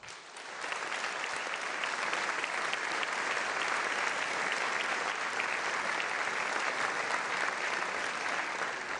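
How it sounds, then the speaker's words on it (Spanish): An audience in an assembly hall applauds opposition deputies, sustained dense clapping from many hands that starts abruptly and continues evenly for several seconds. "Pido un aplauso para ellos."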